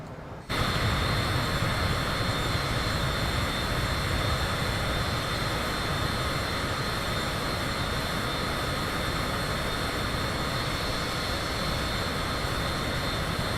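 Steady, loud jet engine roar of a Cessna Citation CJ4 in a PC flight simulator game, a continuous broadband whine and rumble that starts abruptly after a brief quieter moment and holds constant with no talk.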